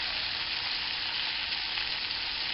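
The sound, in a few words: liver sizzling while browning in a frying pan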